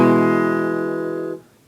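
Guitar holds the third chord of a song, one steady sustained ring, close and full, that cuts off abruptly after a second or so.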